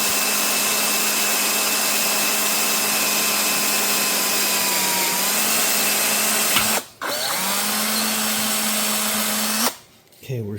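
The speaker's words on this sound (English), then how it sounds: "while I'm drilling out that broken off bolt" A power drill bores steadily through a broken-off bolt held in a drill guide on a John Deere 830 Industrial radiator job, a loud continuous whine that stops briefly near the middle and cuts out again at the end.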